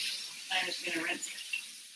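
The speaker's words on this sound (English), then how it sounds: "I'm just gonna rinse." A brief, soft hiss of running tap water while rinsing in a kitchen sink, lasting about two seconds, with a voice faintly present.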